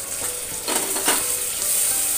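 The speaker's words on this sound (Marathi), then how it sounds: "टोमॅटो देखील आपल्याला छान यामध्ये परतून घ्यायचा आहे" Chopped onion and tomato sizzle in hot oil in a pan on a home stove, giving a steady, close frying hiss with a few stirring scrapes and no talking.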